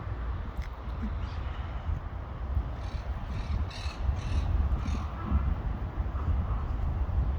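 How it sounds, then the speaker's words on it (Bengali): A bird calls from a tree in a busy spot full of people, a few harsh cawing calls repeating over several seconds, moderately distant above a low steady background rumble. "ওই যে একটা পাখি গাছের ফাঁকে"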